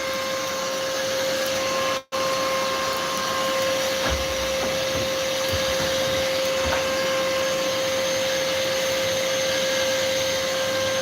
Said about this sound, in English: We're just gonna kick this up a notch with the blower.